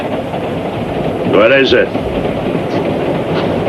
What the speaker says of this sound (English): Aboard this train, running back and forth, going nowhere.